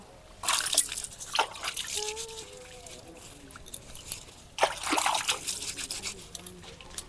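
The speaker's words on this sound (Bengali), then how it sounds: "পাতা নিয়েছি, পাতাগুলো এখন ধুয়ে নেব।" Jackfruit leaves rinsed under running water at home, a steady trickle with broadband splashing bursts around half a second and again near five seconds, close and fairly quiet, with no talking.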